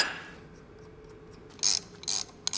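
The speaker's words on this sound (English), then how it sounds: "Now I have my digital torque wrench, and we're torquing to 64." Ratchet torque wrench tightening drive shaft bolts on a V12 BMW E31 850, three short loud bursts of clicking late in the clip after quiet shop ambience.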